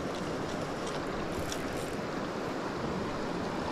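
Waves breaking on a rocky, slippery lake shore form a steady, close wash of surf noise with some wind, continuous and without talk.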